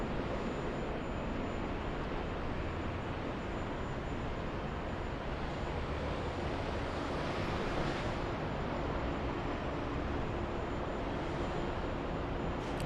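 A Southwest Boeing 737 jet takes off, heard as a steady, distant broadband roar that swells slightly midway, with no talking.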